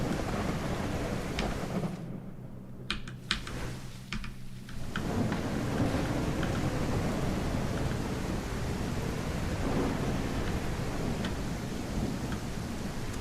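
Steady rain hisses under a low rumbling thunderstorm in the CastleMiner Z video game, with a brief lull and a crackle before the downpour and rolling thunder carry on evenly.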